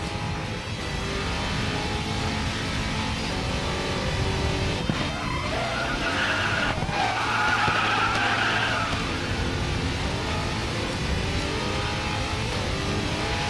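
A Bugatti in a racing video game drifts through a corner, its engine droning loud and continuous while tires screech in a long skid partway through.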